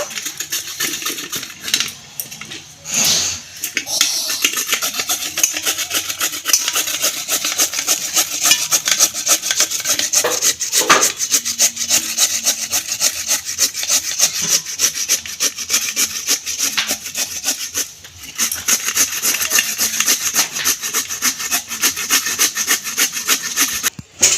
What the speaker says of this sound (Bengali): দুটো ছাড়িয়ে নিয়েছি ওলকপি, গেটার নিয়ে নিয়েছি, গেটারে ঘষে নেব।